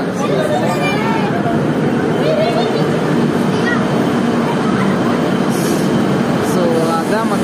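A passenger express train running through a dark tunnel on the Yesvantpur–Mangalore line through deep forest, a steady loud rumble of wheels and carriage noise with faint squeals, with people talking over it throughout.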